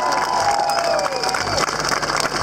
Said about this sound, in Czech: Samozřejmě potlesk i pro jeho kurtizány